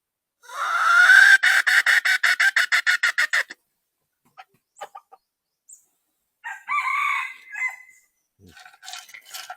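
A rooster crows loudly and close in a forest setting, a long pulsing call, followed by scattered short clucks and calls from the chickens.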